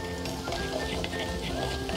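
Half a batch of garlic frying in hot oil, giving a steady dense sizzle and crackle for Vietnamese-style fried garlic, loud and close without any break.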